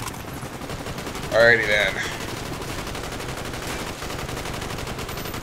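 Enemy gunfire in Call of Duty: Black Ops, a steady rattle of rapid shots running throughout, with a brief spoken remark laid over it near the start.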